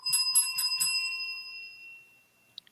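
A bicycle bell stands in for a reminder bell during a Christmas talk show, rung four quick times close up; the last ring fades out slowly, followed by two faint clicks.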